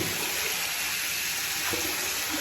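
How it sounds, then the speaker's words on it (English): Water runs from a tap into a sink during a wet-shaving and coticule hone session, a steady close hiss and splash with one brief knock partway through. "let me just get some fresh water."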